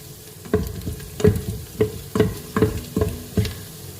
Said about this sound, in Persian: خب پیازمون هم که یه کوچولو تفت خورد و سبک شد.